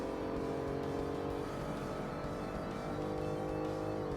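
Car engine in Forza Motorsport, a low-power professional race car, holding a steady, loud drone with sustained revving throughout, no pauses and no talk.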